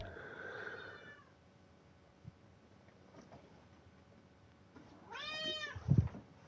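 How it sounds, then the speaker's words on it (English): A house cat meows near the microphone, with a short cry at the start and a louder, rising meow toward the end over faint background noise. "I'm gonna lock this cat outside if he doesn't stop bothering me."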